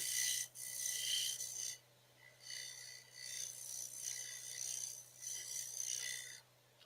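Scraper tool cutting wooden chuck jaws spinning on a wood lathe, a close, dry rasping scrape in four bursts separated by short pauses, with a steady low motor hum underneath.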